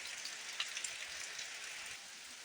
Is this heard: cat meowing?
no